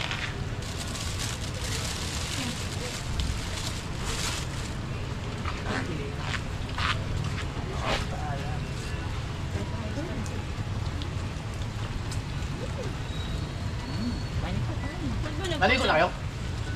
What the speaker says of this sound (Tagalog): Ang ina, biglang umulan talaga